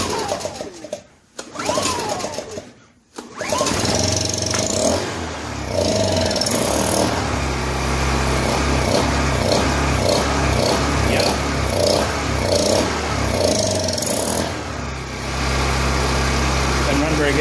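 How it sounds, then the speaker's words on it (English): A Honda EU1000i portable inverter generator running rough with its air cleaner removed, a loud, steady, buzzing engine drone with uneven pulsing, preceded by a few sputtering, stumbling moments. "Doesn't run very good at all now."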